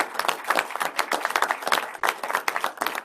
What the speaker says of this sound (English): if everybody could give these guys a great big round of applause